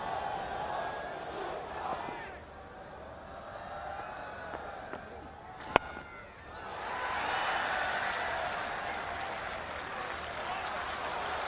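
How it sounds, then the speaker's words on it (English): Cricket spectators at the Rose Bowl during a 2010 England versus Pakistan one-day international, a broad crowd roar that dips, then swells into sustained cheering and applause in the second half, with one sharp crack midway. "the crowd respond exactly as you'd expect them to"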